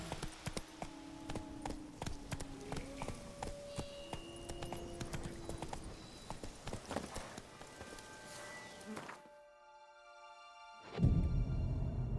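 Horse hooves clip-clop in a steady riding rhythm in The Witcher 3, a moderate near gait running under game music and ambience, then a pause and a louder burst at the end.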